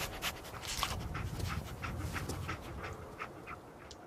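The dog Dogmeat panting in the video game Fallout 4, rapid rhythmic breathy pants close up over a low game ambience, with no talking.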